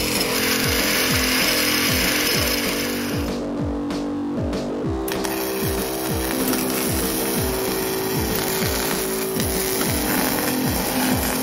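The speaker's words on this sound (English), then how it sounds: "we're about to start cutting things and welding things" A power tool runs steadily at close range, cutting metal parts for a bike build, with a rapid repeating mechanical rhythm and a few brief high-pitched surges throughout, no voices.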